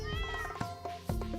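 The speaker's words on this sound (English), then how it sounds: "Pet my cat." A cat in the Stardew Valley farming game meows when petted, a short, clear, tonal meow with a rising then falling pitch, close and alone.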